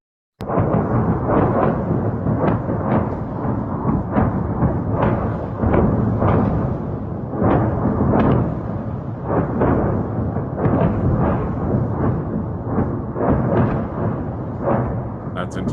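Missile strikes over Kharkov at night, heard as a dense run of heavy, rumbling explosions and thunderous booms, loud and continuous with repeated blasts every second or so, distant and reverberant like artillery or thunder.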